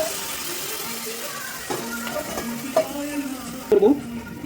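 Hot water is poured into a simmering lemon chicken gravy, a soft continuous watery hiss and bubbling with faint sizzle, broken by a few small splashy clinks near the end.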